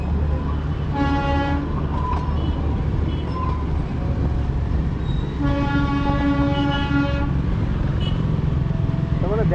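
Darjeeling toy train rolling through the hills of North Bengal, its horn sounding in two long, loud blasts over a steady rumble of the train and passing motorbikes, with voices talking nearby.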